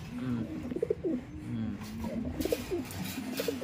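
A female pigeon coos in repeated low, throaty phrases, close by, over a steady background hum with some faint rustling.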